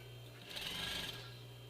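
A sewing machine stitches a narrow seam on a fabric medical mask, a short burst of rapid whirring that rises for about half a second over a constant low hum, then stops.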